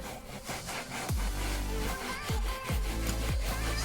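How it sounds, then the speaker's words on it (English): Leather car seat upholstery scrubbed with Autoglym leather cleaner, a rough, steady brushing rub with repeated strokes, close and fairly loud, with occasional thumps. "that's enough scrubbing on that"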